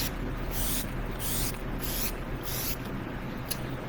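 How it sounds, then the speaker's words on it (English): Sephora setting spray misted onto a face, about six quick hissing spritzes in an uneven rhythm, close and fairly loud with no talk. "I'm going to go ahead and spritz my face with a little setting spray."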